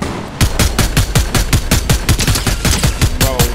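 Steady rapid gunfire in a Fortnite creative map, evenly spaced loud shots repeating roughly every fifth of a second for the whole stretch, with no talk.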